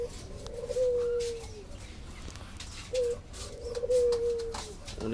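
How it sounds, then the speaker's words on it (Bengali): A red-throated pigeon coos twice, each call a soft, drawn-out low note, fairly close against quiet background noise with no talking. "এটা হচ্ছে লাল গলার একটা কবুতর"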